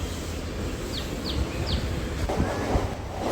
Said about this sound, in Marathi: फास्ट ट्रेन पकडायला फास्ट ट्रेनची वाट बघत होतो